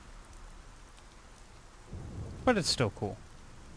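Steady rain falls in the Gears of War 4 video game, a broad constant hiss filling the clip as a soft backdrop, with a brief spoken remark near the end.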